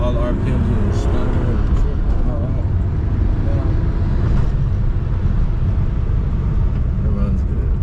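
A BMW E36 engine idles and runs steadily after a differential install, a continuous low rumble filling the whole stretch, with a person talking over it throughout.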